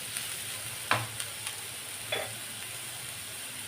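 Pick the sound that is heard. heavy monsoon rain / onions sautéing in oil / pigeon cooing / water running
onions sautéing in oil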